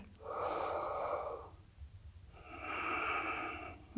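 Slow, deep yoga breathing up close: a long airy inhale, a pause, then a long steady exhale, both rough and audible through the nose and mouth.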